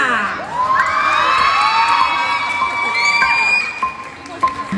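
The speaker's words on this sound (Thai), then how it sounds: "ขอเสียงปรบมือดังๆต้อนรับเบิร์สค่ะ" A crowd cheers, whoops and applauds to welcome performers on stage at a beauty pageant event in Thailand, loud and sustained with high shouts and children's voices rising above the clapping.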